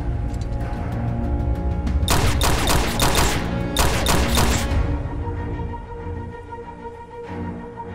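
Gunfire in a French adventure-horror film about vengeful sharks: a loud, dense volley of shots bursts out, pauses briefly, then erupts again before fading into a low rumbling background.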